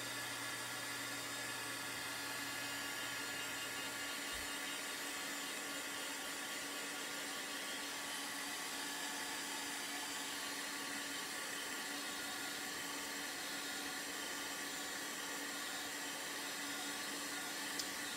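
A dryer blows steadily on chalk-paint stencilling on a Dollar Tree sign, an even, continuous airy whoosh from start to finish with no pauses or voices.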